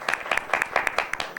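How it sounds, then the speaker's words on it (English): Audience applause at a hackathon presentation: a modest, fairly sparse round of hand claps with distinct individual slaps, steady and close throughout. "Big round of applause."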